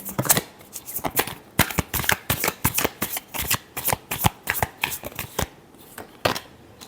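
A deck of tarot cards is shuffled close up in a quick series of crisp, rhythmic flutters and slaps, with short pauses between bursts and no talking.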